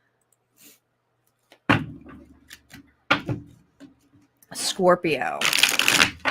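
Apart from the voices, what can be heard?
shuffling tarot cards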